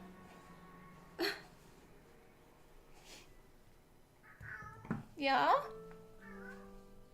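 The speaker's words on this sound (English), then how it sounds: "Can y'all hear her meow?" Cat meowing a few times near the microphone, short soft calls spaced out followed by a louder, longer meow, with a person briefly speaking in between.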